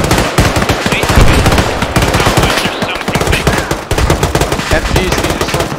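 Loud, sustained machine-gun fire in close combat at an airfield, dense rapid bursts running almost continuously with only brief gaps.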